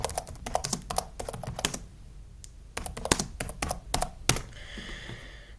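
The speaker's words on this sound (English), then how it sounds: "if I type in Getting Over It APK," Keys clatter on a Chromebook keyboard in quick irregular bursts with brief pauses between them, close and fairly quiet, with no talking.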